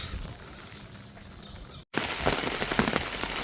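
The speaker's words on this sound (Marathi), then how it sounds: "आठ वाजल्यापासून पाऊस चालू झालेला आहे" Steady rain patters on an onion seedling field, a soft hiss at first that suddenly grows louder and denser after a brief cut, with scattered drops.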